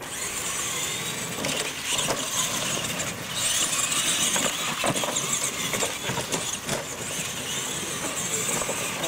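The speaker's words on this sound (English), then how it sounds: "Good race, guys. Hey, Chris, you did really well until that last corner." Radio-controlled monster trucks race at a retro outlaw event, their small motors whining and buzzing continuously with rising and falling pitch, along with crowd noise in the background.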